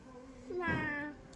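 A young voice imitates a cat, drawing out a single sing-song meow that rises and then fades, close and fairly quiet.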